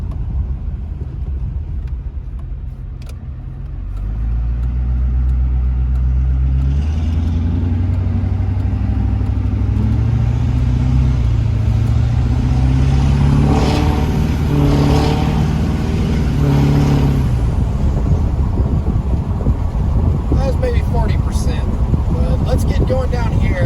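An LB7 Duramax diesel truck fitted with an HSP turbo horn rumbles and climbs under partial throttle, the engine note rising with a swelling turbo whistle before easing off, loud and close.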